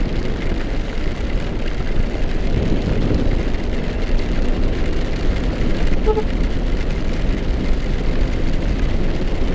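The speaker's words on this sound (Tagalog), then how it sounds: "Nabutan pa tayo ng ulan." Steady rain falls on a rainy homeward camping trip, a constant broadband wash with no breaks and no voices.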